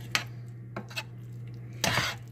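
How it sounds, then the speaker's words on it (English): Sweet potato yams being stirred lightly in a pot, a few soft clinks and scrapes of a utensil against the pot spaced apart over a low steady hum, quiet and close. "Stir very lightly."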